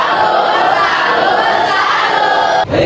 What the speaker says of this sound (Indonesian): Silakan kelompok 1 kasih tepuk salut lagi.